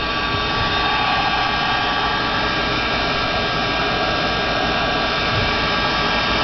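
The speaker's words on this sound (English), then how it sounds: "you can just hit it with your heat gun and make sure that you do it long enough" A heat gun blowing hot air to dry a rock paper weight, a loud, constant close-up roar of fan and airflow that runs unbroken throughout.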